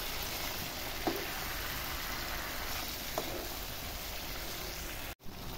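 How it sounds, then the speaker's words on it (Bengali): Chicken pieces frying in a pan with a smooth chili spice paste, a steady soft sizzle running throughout with a couple of faint clicks and a brief drop near the end. "পেস্টটাকে দিয়ে ভালো করে নাড়াচাড়া করে মাংসটাকে কষিয়ে নেব।"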